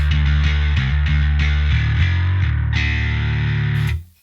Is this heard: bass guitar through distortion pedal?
yes